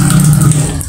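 Deep well water pours from a tap in a steady, loud, close rush that tapers slightly at the end, with no voices over it.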